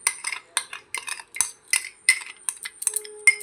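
Metal spoon tapping and scraping as a ground mustard and poppy seed paste goes into a steel tiffin box, a quick series of close, light clinks and scrapes.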